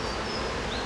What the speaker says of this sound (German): Und meine Bienen fliegen